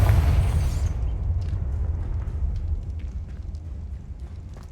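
Confringo fire spell explosion in Hogwarts Legacy, a loud close boom at the start followed by a rumbling tail that fades over several seconds with faint crackles.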